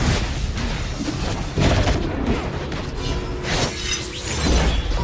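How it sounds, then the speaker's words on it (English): In the Honor of Kings video game, an enemy turret is destroyed with a loud, sustained crumbling blast of shattering debris and booming impacts. Dense, noisy bursts swell and fade over several seconds. "Your turret has been destroyed."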